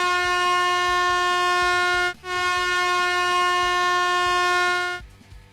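An air horn blares close and loud in one long sustained blast, breaks off briefly, then sounds again before cutting out, with faint background murmur underneath.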